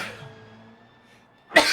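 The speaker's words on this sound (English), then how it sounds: "sneezes are going on. I'm being attacked by hay fever while I'm trying to commentate" A sudden sharp hay-fever sneeze bursts out at the end after a moment of near quiet, close and loud.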